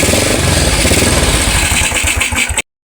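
A motorcycle with a clogged carburetor, just started by kick start, runs loud and close at a steady throbbing idle, then cuts off abruptly.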